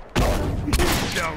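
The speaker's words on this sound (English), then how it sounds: "Oh my god, that's such a good bomb." A loud bomb explosion in The Last of Us Remastered erupts suddenly into a dense, roaring blast with a second surge of debris and rumble close by, lasting over a second.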